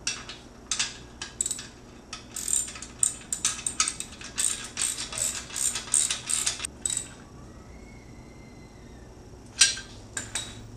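A ratchet wrench tightens nuts and bolts while a Harbor Freight trailer dolly is assembled, giving bursts of quick metallic clicking strokes separated by brief pauses, with a final short burst near the end.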